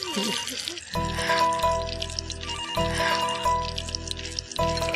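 A telephone ringing indoors with repeated electronic trill bursts in a steady on-off rhythm, loud and close, with a faint splash of water before it starts.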